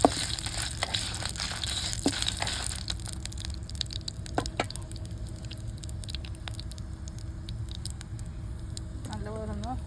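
Kashmiri chillies fry in hot oil for mango chutney, giving a continuous crackling, popping patter close up that stays steady throughout, with a faint voice at times.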